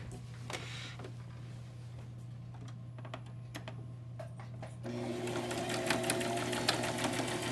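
A sewing machine stitches darts on the front piece of a fabric face mask, quiet scattered clicks first, then a steady rapid whirring run of stitching that grows louder for the final few seconds.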